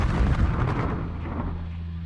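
A grenade explodes in the video game Runaway 3: A Twist of Fate, a heavy low boom that fills the clip and then rumbles away with a lingering hum.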